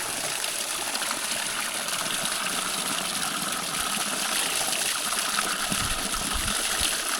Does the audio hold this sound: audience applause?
no